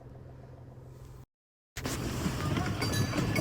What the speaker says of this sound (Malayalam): ഇതൊരു ട്രെയിനാട്ടോ